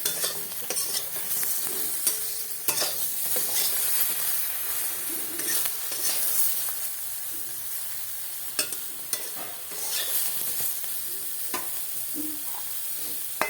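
Small mourola fish frying lightly in oil in a pan, a continuous close sizzle with scraping stirring strokes and occasional clinks of the spatula, no talking.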